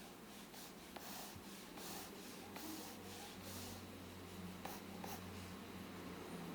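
Pencil on paper sketching curves for a figure gesture drawing, a continuous soft scratchy rubbing with faint strokes, close and quiet against a low background hum.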